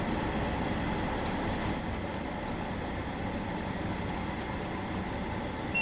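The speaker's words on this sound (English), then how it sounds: "It's the actual noise of the engine over the noise of the rails" A steady low rumble of a train engine mixed with rolling rail noise, constant and unchanging throughout, like a rail vehicle coasting downhill, in the Train Sim World 2 game on the West Cornwall line between St. Ives and St. Erth.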